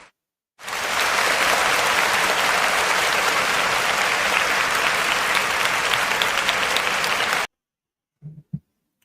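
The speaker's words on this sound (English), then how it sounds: "Let's give him a round of applause" Loud sustained round of applause from an audience, steady dense clapping for about seven seconds before stopping abruptly, followed by a couple of faint knocks.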